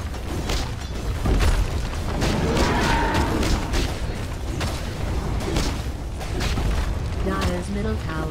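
Dota 2 match audio with a heavy crashing collapse as the Dire's middle barracks is destroyed, dense rumbling impacts and battle noise running throughout, with a game announcer voice over the top.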